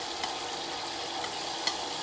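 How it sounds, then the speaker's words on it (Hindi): Garlic-ginger paste frying with golden onions in a pan, a steady close hiss of sizzling with a couple of faint stirring clinks, no voices. "2 से 3 मिनट के लिए फ्राई करूँगी।"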